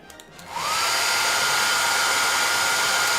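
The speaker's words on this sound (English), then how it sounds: "I apologise for the hairdryer" Hair dryer switching on and blowing steadily and loudly at close range, a constant whirring rush with a high whine that holds until the end, no voices.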